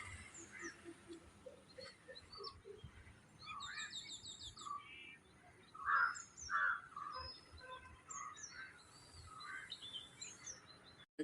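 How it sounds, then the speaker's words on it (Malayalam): Birds chirp and call on and off in a quiet morning setting on a rooftop terrace vegetable garden, with a few louder, closer tweets standing out among fainter distant song. "രാവിലെ തന്നെ വരുമ്പോൾ, മുകളിൽ ടെറസിൻ്റെ അടുത്ത് വരുമ്പോൾ നല്ല പക്ഷികളുടെ ഒച്ച"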